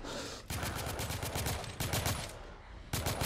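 Rapid automatic gunfire from The Order 1886, several dense bursts of close, loud shots separated by short pauses, with no talking.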